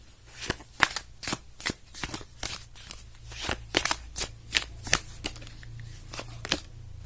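Oracle cards being shuffled, a quick run of crisp riffling bursts in an irregular rhythm, close and fairly quiet, with a faint low hum underneath and no talking.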